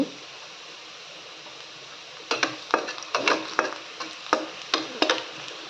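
Pistachios and whole spices fry in oil in a pan, a soft sizzle under a run of sharp spatula scrapes and taps that come in quick regular strokes after a quiet start.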